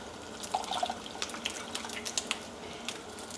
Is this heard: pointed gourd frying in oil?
no